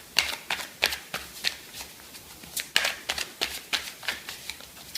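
Someone shuffles and cuts a deck of tarot cards in a steady run of crisp riffling slaps and flicks, heard close up and without talking.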